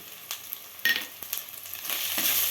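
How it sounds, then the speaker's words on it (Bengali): Spices frying in a pan with turmeric and chili powder, a close crackling sizzle broken by several stirring scrapes and clacks of a spoon, no talking. "মশলাগুলো দেখুন ফ্রাই হয়ে গেছে"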